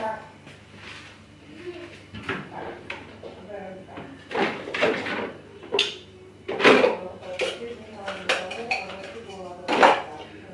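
Dishes and cutlery clatter in several bursts as items are shuffled about, with a voice talking in between.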